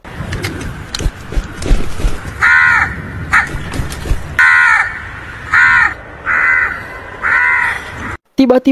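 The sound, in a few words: crow cawing, from a film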